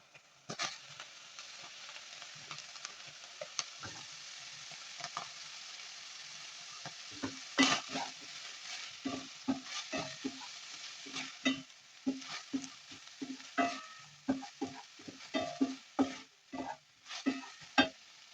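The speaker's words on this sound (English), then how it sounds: "Here we add our onions." Onions sizzle steadily while frying in a pan for homemade meat rolls, joined after the first few seconds by a run of sharp scraping stirs that grow louder and more frequent.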